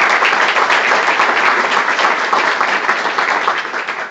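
Steady, dense audience applause fills a county gathering honoring the speaker's wife Paula, continuous and fairly loud throughout before easing slightly at the end.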